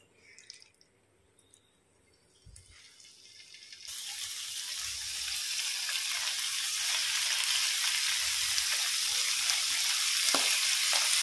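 Squid tawa masala hits a hot pan after a few quiet seconds, and a dense frying hiss builds and then holds loud and steady to the end, with a few faint clinks.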